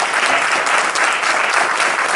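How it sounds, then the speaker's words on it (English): Steady, dense audience applause from a crowd in a room after a speaker's introduction, loud and continuous throughout with no talking over it. "So let's give him a round of applause."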